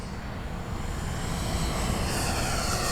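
A Freewing 70mm Me 262 RC jet flying overhead with its landing gear down gives a steady, moderately faint ducted-fan whine and rush that builds slightly and continues without a break.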